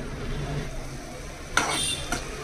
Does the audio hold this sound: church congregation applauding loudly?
no